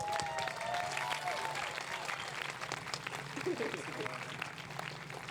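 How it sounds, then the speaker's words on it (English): A large audience at a live interview event claps steadily for an arriving guest, with dense applause holding throughout along with some cheering. "So can you please give a big round of applause?"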